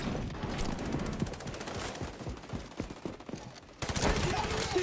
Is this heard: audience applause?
no